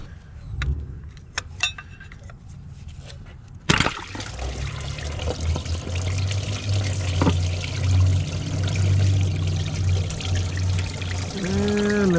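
Coolant pours and trickles from a 2014 Chevy Cruze 1.4L water pump into a catch pan, starting with a sharp knock and then running as a steady, close splashing stream for several seconds.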